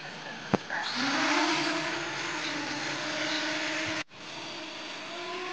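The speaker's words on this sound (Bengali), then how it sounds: "তো এই যে আমাদের ড্রোনটা উড়ে গেল।" An IZI Mini X drone taking off and flying: a sharp click, then its motors spin up into a loud, buzzing whine that holds steady, drops out for a moment and resumes.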